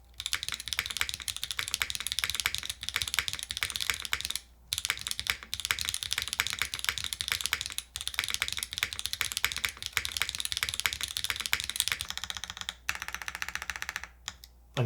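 Steady, fast typing on a Paper 65 mechanical keyboard with Obscura switches, bottom-mount build and carbon fiber plate. Crisp, close key clacks come in dense continuous runs with a few short pauses.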